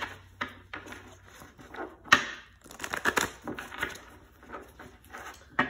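Tarot cards being shuffled make a run of soft papery riffles and taps, close and fairly quiet, with irregular bursts of flicking and a few sharper snaps.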